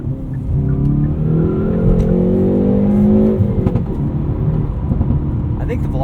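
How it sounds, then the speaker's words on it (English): A Hyundai Veloster N driven at night, heard from inside the car: the engine and exhaust rise in pitch under acceleration, then ease off and settle into a rough, loud drone. "I think the Veloster N wins the exhaust sound battle pretty much of everything out there"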